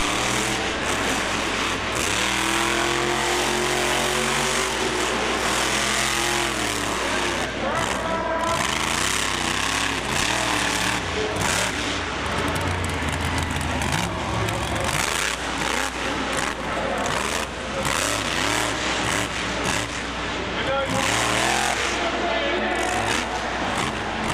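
A racing truck engine roars loud and close at Bristol Motor Speedway in Bristol, Tennessee, revving and surging continuously across the whole stretch while an announcer talks over it.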